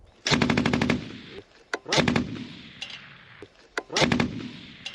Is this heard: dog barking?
no